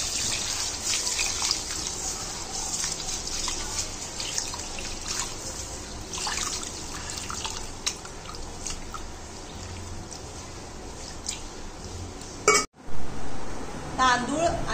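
Rice and lentils are washed in water in a kitchen while preparing chakli. Steady running-tap water splashes with scattered light clinks of a vessel, and the sound breaks off abruptly near the end.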